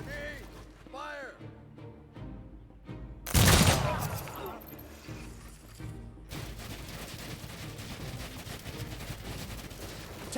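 Soldiers firing guns in the Humankind strategy video game: a sudden loud burst of gunfire volleys amid battle noise, with voices speaking around it.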